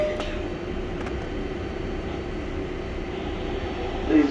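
Low, steady rumble of a New York subway 7 train approaching Queensboro Plaza, a constant droning roar with faint clanks and no talk.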